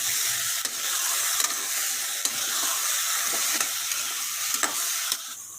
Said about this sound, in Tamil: இப்போ மட்டனை சேர்த்துக்கலாம். நல்லா மிக்ஸ் பண்ணிக்கலாம்.